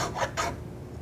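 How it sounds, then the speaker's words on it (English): Shoulder plane shaving a wooden tenon, two quick rasping strokes in succession, close and moderately loud, followed by a quiet room with no speech. "reverse the planing action of your tool and attack it from the far side toward the middle"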